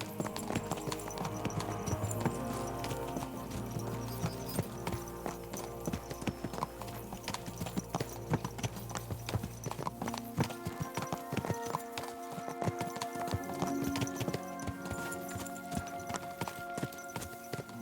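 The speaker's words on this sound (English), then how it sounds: "Let's really spur these horses on, eh?" Horses gallop at speed in the video game Kingdom Come: Deliverance 2, a dense, continuous clatter of hooves under a steady layered soundscape, with an occasional whinny.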